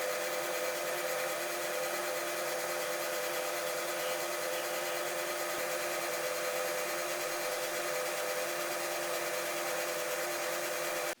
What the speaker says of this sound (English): Okay, so we got all the stuff sanded.